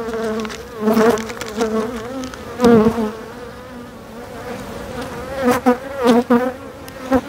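Winter honeybees hum inside a wintering hive in February. Their buzzing is close and continuous and swells into several louder surges, with no voices.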